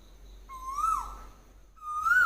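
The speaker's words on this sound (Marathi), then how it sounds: "कसं कोकिळेचा आवाज मस्त वाटतं ऐकायला" Early-morning Asian koel near Ratnagiri gives two rising whistled calls, the second starting just as the first fades, clear and moderately close against a hushed background.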